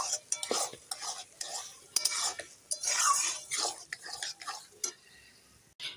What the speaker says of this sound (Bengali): এখন আস্তে আস্তে নেড়ে চেড়ে আমি উঠিয়ে দেবো।